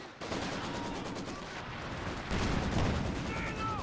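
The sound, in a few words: Panzer IV tank firing in Company of Heroes 2 video game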